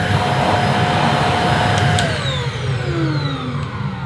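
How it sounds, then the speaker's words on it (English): Shark Powered Lift-Away vacuum cleaner motor running with the hose removed, a loud steady close whine and airflow roar that begins winding down partway through, its pitch gliding lower as it slows. "we'll just see if the motor sounds any better or less restricted without the hose on"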